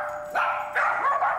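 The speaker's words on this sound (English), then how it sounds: "And the dog started barking." A dog barks in two quick bursts, the second with a short whining trail, fairly loud and close in an indoor home setting with no talk.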